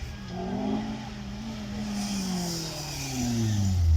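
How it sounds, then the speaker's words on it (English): A 2-litre turbocharged 320-horsepower supercar on a demonstration run at a supercar weekend, revving up and down with rising and falling engine pitch, moderately distant. "got a 2 litre turbocharged engine, 320 horsepower"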